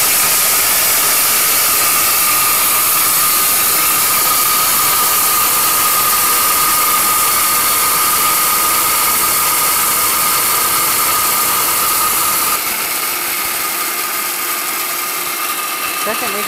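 An orange blender machine grinding gram flour (besan) runs as a loud, steady high-pitched motor whine close by, holding constant before the tone shifts slightly near the end, with no talking.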